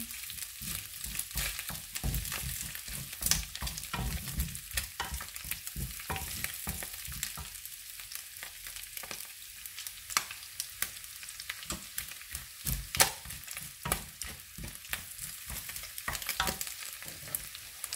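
Pork fat and ginger sizzling steadily in a hot pan for ginataang pork, a continuous crackling fry with irregular louder pops and occasional stirring scrapes, close and fairly loud with no talking.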